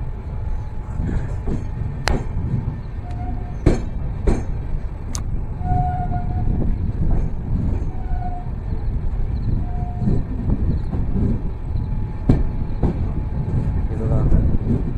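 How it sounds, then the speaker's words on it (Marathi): A train departing Kudal station in the Konkan rumbles steadily with low mechanical noise and clattering, sharp clicks and faint tonal beeps over it, while people talk nearby. "फायनली ट्रेन आता कुडाळ स्टेशनवरून निघालेली आहे"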